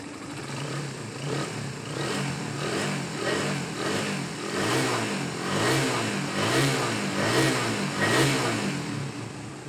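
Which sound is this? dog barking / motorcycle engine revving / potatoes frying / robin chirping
motorcycle engine revving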